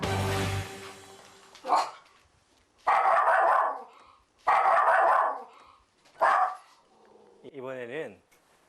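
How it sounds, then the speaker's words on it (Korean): A miniature pinscher barks sharply in several loud bursts, with short pauses between, ending in a higher whiny yelp. "쉽게 흥분하고 물고 짖고 어디로 튈지 모르는 짱이."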